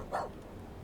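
A single short, faint dog bark or yip near the start, followed by quiet room noise.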